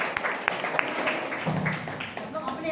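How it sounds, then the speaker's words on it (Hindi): Audience at a New Year program claps, with uneven, fairly close hand claps mixed with murmuring voices and background chatter over a couple of seconds. "साथ एक बार जोरदार तालियां मेरे लिए,"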